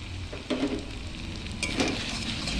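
A sauce mixture for chilli soybeans sizzles loudly and continuously in a hot pan, close up, with a couple of brief scrapes and clinks of a utensil stirring through the steady frying hiss.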